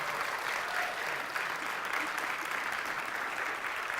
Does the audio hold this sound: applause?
yes